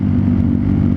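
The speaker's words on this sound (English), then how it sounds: "I cannot get over the sound of a Two Brothers exhaust" A motorcycle fitted with a Two Brothers exhaust gives a loud, deep, steady engine rumble close by, with no voices over it.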